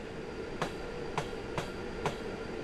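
A Class 390 train runs along the track in Train Simulator 2020, a steady rolling rumble broken by four sharp, evenly spaced rail-joint clicks.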